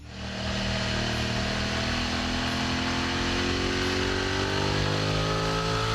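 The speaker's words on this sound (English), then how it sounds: "Number 9, BMW F900XR" A 2027 BMW F900XR motorcycle engine pulls steadily, its tone climbing smoothly as it accelerates, loud and continuous throughout.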